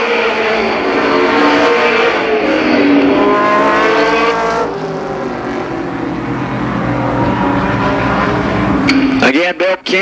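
Midget race cars at Columbus Motor Speedway roar past in a continuous loud pack, engines revving and shifting pitch as they pass, with an announcer talking over the din before it cuts off near the end.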